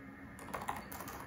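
Typing on a PowerBook G4 15-inch laptop keyboard, a brief quick burst of soft, slightly mushy keystrokes, close and quiet, with no voice over it.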